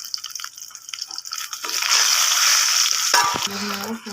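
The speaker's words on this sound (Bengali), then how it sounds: "একটুখানি হলুদের গুঁড়ো দিয়ে আমি ভেজে নেবো" Eggplant pieces with turmeric frying in hot oil for a boal fish curry, a loud close sizzle that flares up midway, with stirring and clattering toward the end.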